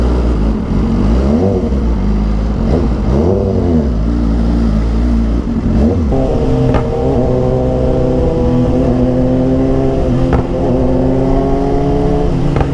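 A BMW S1000XR motorcycle engine revs loudly and continuously up close, its pitch climbing and falling through repeated throttle bursts.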